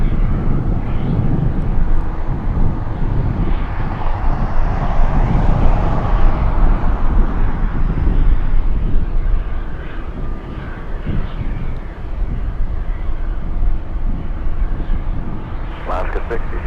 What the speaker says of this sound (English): Good to see the turbo otter.